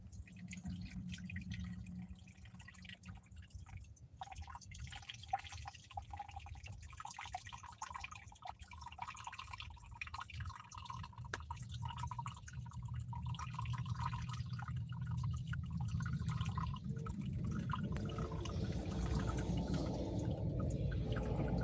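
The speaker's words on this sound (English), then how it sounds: "And we pour slowly into the spoon, through the spoon," Cowboy coffee poured slowly over a spoon into a cup, a faint, steady trickle and dribble close by that gradually grows fuller as the cup fills, heard without talk.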